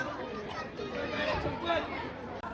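Crowd of devotees packed at a temple for Angarki Chaturthi darshan, a continuous murmur of many voices and footsteps nearby, steady and fairly loud throughout.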